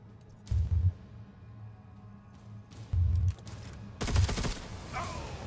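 Gunfire in the video game Necromunda Underhive Wars: three short bursts of shots, each loud against a low, steady game ambience, the last one followed by a brief rattling tail.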